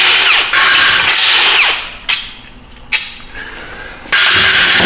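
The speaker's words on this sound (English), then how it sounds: "So take out the shifter tower bolts." A power tool whirs loudly in bursts while removing shifter tower bolts from a 1997 Ford F350 ZF5 transmission, with short pauses and clicks between the runs of the motor.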